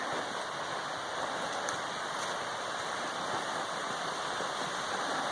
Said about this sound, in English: I hear some rushing water